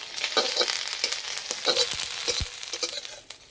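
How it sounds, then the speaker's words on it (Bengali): Neem leaves sizzle in a hot pan, a bright crackling hiss broken by several sharp spatula scrapes and taps as they are stirred. "এই নিম পাতা ভাজা গন্ধটা তো আমার খুবই ভালো লাগে"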